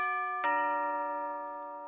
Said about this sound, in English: if we ring the bell,